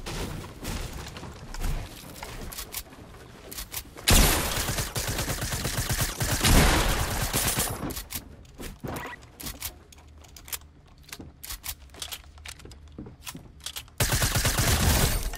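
Gunfire in a Fortnite match as players shoot at each other, with bursts of rapid shots and loud volleys that swell, thin out into scattered shots, then erupt again near the end.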